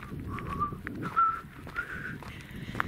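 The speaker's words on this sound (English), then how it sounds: "I have that whistling tune from Slab City." A person whistles a tune in short melodic phrases, moderately clear, over a low rumbling background.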